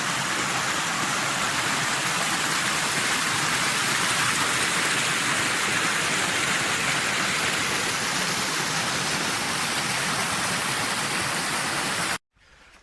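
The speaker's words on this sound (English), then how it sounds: "Along the path there's lots of little waterfalls" A small waterfall runs beside a forest hiking path in Myrtle Gully, Toolangi State Forest, Victoria, Australia, giving a steady, close, full rushing wash that stops abruptly just before the end.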